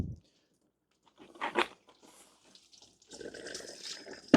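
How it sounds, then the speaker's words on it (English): Water drains from the cooling system of a BMW 650i V8, heard as short bursts of splashing and trickling into a container, separated by near-silence, with a longer gurgling flow toward the end. "Yeah, it's just water in there."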